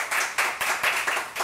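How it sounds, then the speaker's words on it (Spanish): An audience on a Spanish-language talk show claps together in a steady rhythm, producing several loud, evenly spaced bursts of applause close to the microphone. "Quiero que demos un aplauso"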